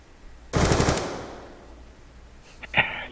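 Automatic gunfire in the video game Black Ops 2 (a DLC gun), with one loud, sharp burst of rapid shots followed after a gap by a quieter single shot, and no talking.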